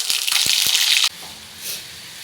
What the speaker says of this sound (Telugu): ఇప్పుడు ఈ ఆయిల్లోనే మనం 2 టేబుల్ స్పూన్ అల్లం వెల్లుల్లి పేస్ట్ ఫ్రై చేసుకుందాం.